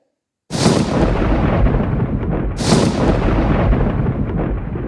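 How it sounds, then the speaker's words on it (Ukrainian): Two loud rolling thunderclaps in a storm, the first crashing in after a moment of silence and the second breaking about two seconds later, each with a sharp onset that decays into a long, heavy rumble. "Так, це був грім."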